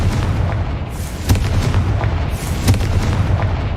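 A Confringo fire spell blasts in Hogwarts Legacy on PS5, heard as a loud, continuous rumbling roar with two sharper booming hits standing out, with no talk over it.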